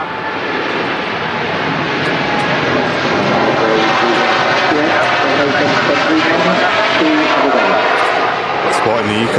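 A Boeing 787 Dreamliner departs from Manchester Airport, its engines producing a loud, sustained roar that swells and holds for several seconds, close and unbroken.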